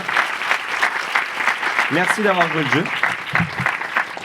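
A live comedy-show audience applauds two volunteer delegates, steady broadband clapping filling the room while the host talks over it in French.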